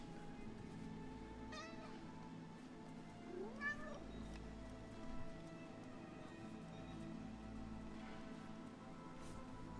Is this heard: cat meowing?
yes